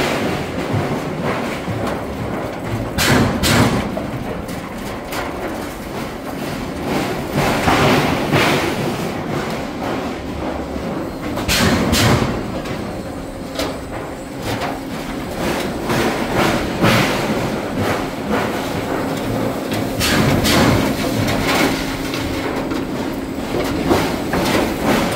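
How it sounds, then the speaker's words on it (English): A metal roofing panel forming machine in a sales shop in Kokomo, Indiana, bends panels and punches screw holes. There is a constant rumbling mechanical drone with frequent sharp clanks and rattles, steady and close throughout. "So the machine is actually bending these panels. It's perforating the holes here for your screws to go in."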